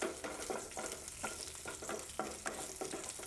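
Garlic cloves and a sprig of curry leaves sauté in a hot pan for beetroot rasam, giving a steady crackling sizzle with repeated stirring scrapes, close and faint.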